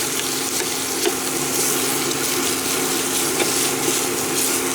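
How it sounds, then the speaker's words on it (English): Meat cooking in a pan, being mashed and broken up with a utensil: steady close sizzling and frying with faint scraping, alone without talk. "now I'm just gonna mash this up"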